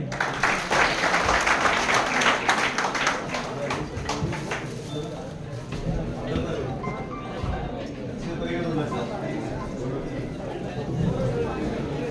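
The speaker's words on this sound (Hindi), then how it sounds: "जोरदार तालियों के साथ स्वागत करें।" An audience at a Constitution Day celebration applauds to welcome guests, with dense clapping that is loudest at the start and then thins into lighter, scattered claps with background chatter.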